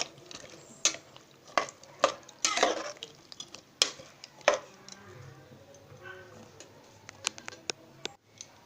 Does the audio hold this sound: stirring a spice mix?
yes